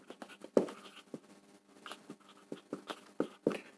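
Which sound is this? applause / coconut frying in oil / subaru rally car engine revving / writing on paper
writing on paper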